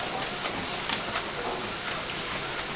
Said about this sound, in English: Your printer is printing.